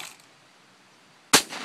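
A single sharp shotgun blast at a skeet shooting range, loud and abrupt after over a second of near silence, with a quick decaying tail.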